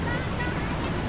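Water rushing steadily over a waterfall on a riverside stop during a year-end motorcycle ride, a loud, broadband roar close to the microphone that fills the whole moment without pause.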